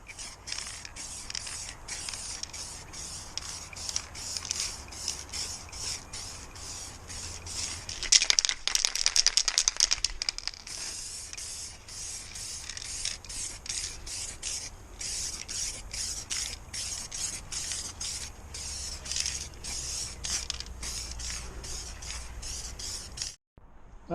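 An aerosol can sprays onto the bodywork of a Lamborghini Countach kit car in short, repeated hissing bursts. A longer, denser spray runs near the middle, and the can stops abruptly at the end.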